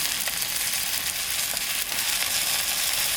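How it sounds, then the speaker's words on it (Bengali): Carrot, onion and cabbage sizzle steadily in hot oil in a wok, cooked outdoors in freezing snowy mountains; a dense, continuous frying hiss fills the clip, close and fairly loud, with no talking. "তেল গরম হয়ে গেছে সব সবজিগুলো কড়াইতে দিয়ে দিলাম আর এতে আছে গাজর পেঁয়াজ বাঁধাকপি"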